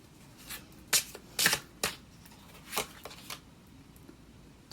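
Tarot cards being shuffled and drawn, with a series of crisp riffling bursts and soft slaps at irregular intervals, close and fairly quiet, no voices.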